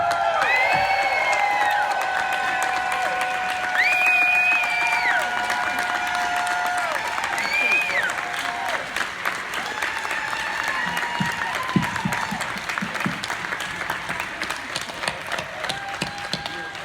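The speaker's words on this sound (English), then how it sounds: "First, let's get you guys cheering." A crowd at a 2017 Star Trek Discovery cast event applauds and cheers loudly and continuously, with whoops and shouts rising over dense clapping that thins into scattered claps near the end.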